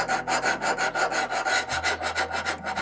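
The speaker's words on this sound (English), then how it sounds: "I'm able to keep a pretty good angle just by pressure here and scrubbing the file back and forth" A metal file scrubs back and forth on the steel of an old West German hatchet during restoration, a rhythmic rasping in quick even strokes, close and fairly quiet, with no talking.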